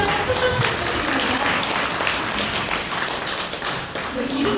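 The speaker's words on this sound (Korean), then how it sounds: "다시 한번 큰 박수" An audience at a book concert applauds a guitar performance with dense, continuous clapping from many hands, while voices can be heard faintly under the applause.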